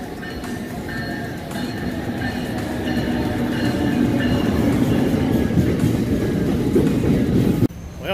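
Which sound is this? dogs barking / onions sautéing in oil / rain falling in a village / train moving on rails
train moving on rails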